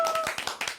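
A short burst of audience clapping at a business leadership talk, a few quick overlapping claps, moderately loud and close, with no voices over it.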